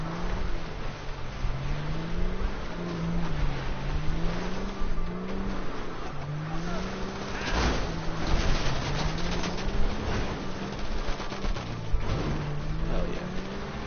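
A car in GTA 5 drives with a continuous engine drone that rises and falls in pitch as it revs and shifts, steady and fairly loud with no voices over it.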